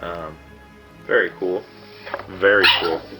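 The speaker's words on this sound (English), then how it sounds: "Excuse my dogs there." Household dogs give a few short barks in quick bursts close by, mixed in with someone talking over them.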